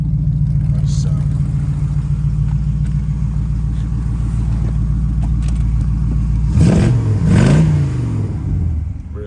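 Close up, a 1969 Pontiac Firebird with dual exhaust idles with a low lumpy rumble, then the throttle is blipped twice for sharp revving surges that quickly fall back to idle.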